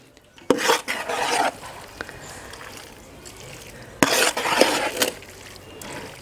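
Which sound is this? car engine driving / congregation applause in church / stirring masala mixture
stirring masala mixture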